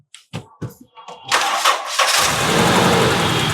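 A Toyota Land Cruiser Prado engine cranks with a few short bursts, catches and settles into a steady, smooth idle close by.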